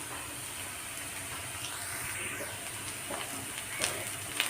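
Curry leaves hiss softly in hot oil for a dosa chutney, a faint, even sizzle that holds steady throughout, with a couple of small clinks near the end and no speech.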